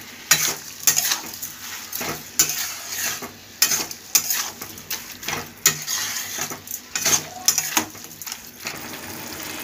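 Plantain flower and prawns with sugar are stirred in a pan, with repeated sharp scraping and clinking strokes of a spoon over a soft sizzle, close and fairly loud, no talk.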